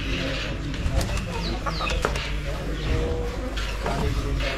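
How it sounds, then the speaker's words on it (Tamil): Chickens cluck repeatedly in a Punjab village, their calls rising over a steady busy background with faint talking nearby. "கோழி பாருங்க எவ்வளவு நீளமா இருக்கு இந்த கோழியோட கழுத்து செம்ம நீளமா இருக்கு பாருங்க"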